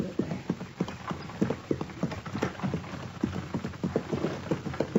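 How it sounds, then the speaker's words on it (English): A horse pulling a buggy clip-clops along at a steady trot, the hoof beats close, loud and rhythmic over a constant rattling and creaking of the buggy, with no talk. "How do you like riding in a buggy, Matt?"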